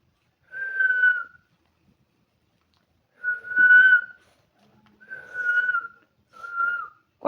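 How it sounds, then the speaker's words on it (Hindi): Person whistling four separate sustained notes, each about a second long with pauses between, loud and clear against a quiet background. "कौन बजा रहा है सीटी? सीटी कौन बजा रहा है?"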